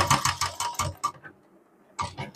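A sewing machine stitching a trouser fly runs in quick, rhythmic bursts of ticking clatter, pauses for about a second, then starts again, heard up close and moderately quiet.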